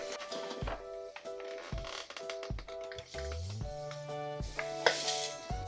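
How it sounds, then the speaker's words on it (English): Cookie crumbs being stirred with melted butter in a bowl, a soft close scraping and clinking of utensil against the bowl in uneven strokes over background music, quiet and without talk. "And stir in 5 tablespoons of melted butter"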